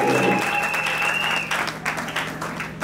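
Wedding guests at a ceremony in Brazzaville, Congo, break into steady applause to acclaim the king. The clapping is loud and continuous throughout, with faint crowd murmur underneath.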